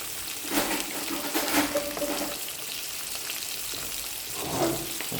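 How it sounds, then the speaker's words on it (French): Salmon fillets fry skin side down in olive oil, giving a bright, steady hiss and sizzle that swells in a few crackling bursts. "là je suis en train de faire revenir mes saumons côté peau"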